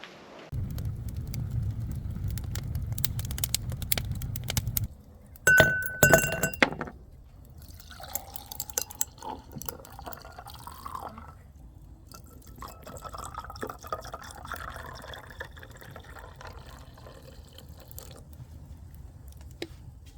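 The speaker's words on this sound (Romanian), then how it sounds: "cel mai important lucru pe care trebuie să facem neapărat la un grătar este să punem un pahar de șpriț" Liquid pours and clinks into a glass of spritzer beside an outdoor grill, a fizzy, bright filling sound with a few glassy knocks, fairly close, followed by quieter rustling and handling.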